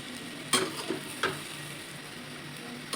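Chana dal roasting in a hot pan, a soft continuous sizzle broken by a few sharp scrapes and taps of a spoon stirring, close and fairly quiet.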